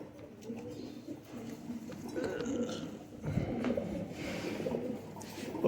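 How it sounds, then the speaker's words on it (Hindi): A pigeon just taken out of a large cage and somewhat unsettled gives soft, low cooing at close range over a quiet background. "ये भी थोड़ा डिस्टर्ब रहेगा क्योंकि बड़े पिंजरे से निकाला हुआ कबूतर है"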